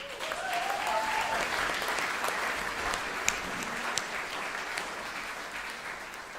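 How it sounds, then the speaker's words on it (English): At the Nova Scotia Book Awards, an audience claps steadily for a cellist and a pianist, the moderate applause continuing evenly throughout with a few sharper individual claps standing out. "Please give them a round of applause."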